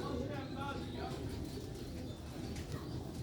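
Sialkoti pigeons coo faintly in the background beneath someone speaking, with a hint of wing flutter and some soft chirps.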